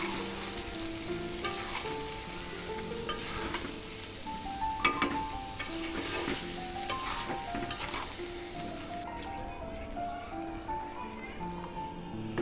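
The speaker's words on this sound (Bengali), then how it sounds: "এ পর্যায়ে চাল এবং ডাল দিয়ে দিব, দিয়ে হালকা ভাজা ভাজা করে নিয়ে" Rice and lentils for chicken khichuri fry steadily in a pan while a utensil stirs them, scraping and clinking against the metal under a constant sizzle.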